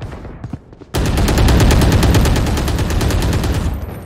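Loud automatic gunfire in the video game Valorant bursts in abruptly after a short quiet moment, then keeps up a fast, even stream of close shots until the end, with no one speaking over it.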